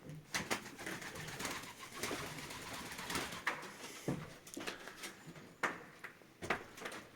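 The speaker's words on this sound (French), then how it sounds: "Il y a des pigeons qui sont coincés là-bas" Pigeons trapped inside a house in an abandoned sugar factory make repeated fluttering wingbeats and scuffling noises in an echoing room, with soft cooing underneath.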